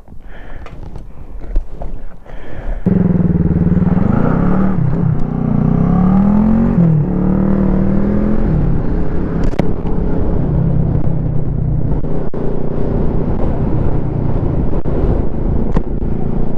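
A Kawasaki ER5 motorcycle ridden on a coastal road after rain, quiet at first, then a loud engine note rising and falling through gear changes under heavy wind buffeting.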